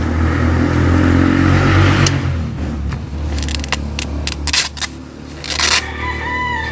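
A motorcycle on a nearby road beside an elephant grass farm revs and passes close, its low engine drone dominating the first seconds before fading, followed by scattered sharp clicks and rustles.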